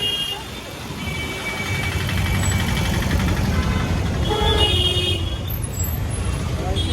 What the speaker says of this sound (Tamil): செம்ம டிராஃபிக்குங்க.